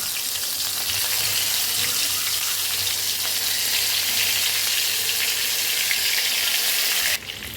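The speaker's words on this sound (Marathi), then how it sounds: "तर वांगी तेलात सोडल्यावर ह्याला थोडंसं परतून घेऊया" Stuffed brinjals, filled with spice masala, fry in hot oil with asafoetida and curry leaves in a pan, giving a steady, even sizzle throughout that drops slightly near the end, with no voices.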